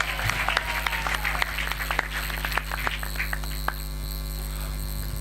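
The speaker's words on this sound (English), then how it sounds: "Let's give him another round of applause." Audience applause at a commemoration event for the International Day for Women Human Rights Defenders, sparse claps over a steady mains hum, tapering off after about four seconds.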